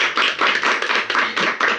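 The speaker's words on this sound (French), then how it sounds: "on peut l'applaudir encore une fois" A small studio audience claps for a chef in a steady patter of several hand claps, close and fairly loud, lasting under two seconds.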